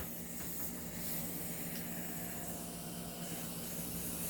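Air hisses continuously from a leak in a CZ Shadow 2 pistol being worked on, a steady broad hiss with faint low hum underneath and no talk.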